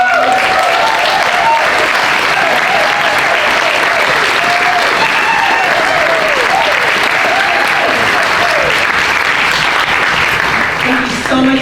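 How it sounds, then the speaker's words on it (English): A large audience at an event in Oakland, California breaks into loud, sustained applause that fills the room with dense, continuous clapping for over ten seconds. "Can we give a round of applause?"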